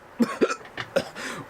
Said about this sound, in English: I just burped, coughed, and hiccuped at the same time